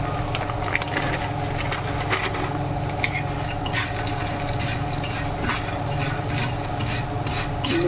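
Semolina is stirred and fried in ghee in a pan, with a steady loud sizzle under repeated scraping and tapping strokes of the spoon, close and without talk.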